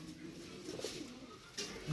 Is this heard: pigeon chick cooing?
yes